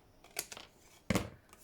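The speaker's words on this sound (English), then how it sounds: "I've got scissors out instead of the knife" Scissors snip through card for a handmade ephemera junk-journal piece: a quick double snip, then a louder, crisp cut about a second later, close and alone.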